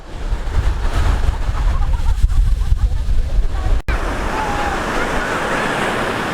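Sea surf rolls in on Pagudpud beach as a loud, continuous wash of breaking waves, mixed with wind buffeting the microphone and a brief sharp break partway through.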